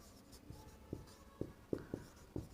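Pen scratches and taps on a board or paper during a physics lecture on electric potential, about six short distinct strokes spaced irregularly, moderately close and quiet, with no talking.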